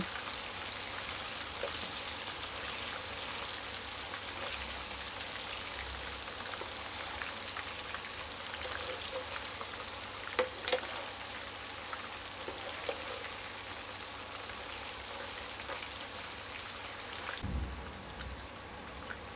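Andhra-style prawns sizzle in a pan over medium flame, a dense, continuous crackling hiss that carries on steadily without pause, with a few louder pops, then shifts briefly near the end.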